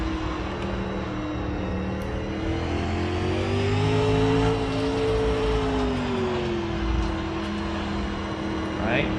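A dirt late model race car engine in iRacing holds a steady, loud drone that rises in pitch as the throttle opens, swells, then eases back, with a voice talking over it.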